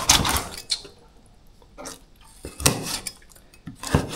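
A knife cuts through a river fish on a board, giving a few separate scraping, clattering strokes with quiet gaps between them and no talk.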